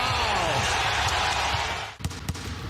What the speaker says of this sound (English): 2 dribbles and a chain net swishing.